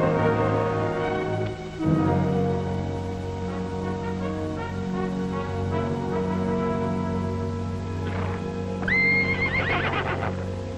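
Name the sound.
horse neighing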